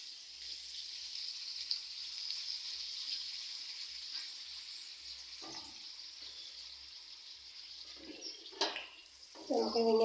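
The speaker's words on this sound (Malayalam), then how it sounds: "നമുക്ക് പപ്പടം കുറേശ്ശെ ഇട്ട് വറുത്തെടുക്കാം." Cut papad pieces frying in hot oil give a steady, close sizzling hiss that runs throughout, with a few brief clinks and scrapes toward the end.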